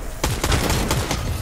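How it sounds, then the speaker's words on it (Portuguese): Rapid gunfire from a shotgun then a machine gun in Fortnite, a quick burst of sharp repeated shots within about a second and a half, fairly loud against game background. "Eu dei 2 tiros de 12 e troquei pra metralhadora"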